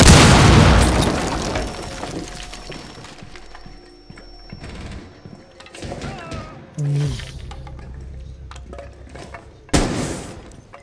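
A breach charge goes off in Rainbow Six Siege on the Villa map, a loud boom at the start that decays into rattling debris and mechanical clatter, with a couple of sharper impacts later and voices talking over it.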